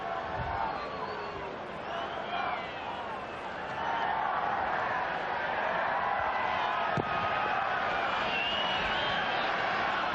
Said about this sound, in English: Congratulations, Edmonton, the largest crowd ever to watch a soccer game in Canada